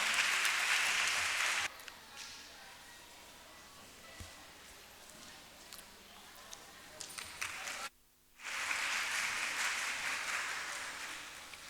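Applause from an audience at a summer camp certification ceremony, loud for under two seconds, then a long stretch of fainter scattered clapping and murmur, a brief near-silent gap, and a second loud burst.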